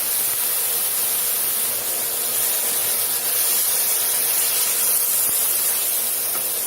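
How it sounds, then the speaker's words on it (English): One large chopped onion sautés in a pot, giving a steady, close hiss and crackle that runs unbroken and fairly loud throughout, with no voices. "Saute. This is 1 large chopped onion."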